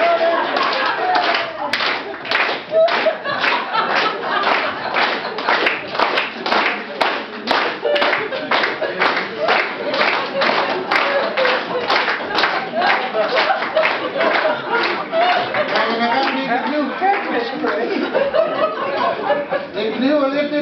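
Sustained, dense applause from a crowd, with many hands clapping loudly and continuously for about twenty seconds, and some chuckles and voices mixed in.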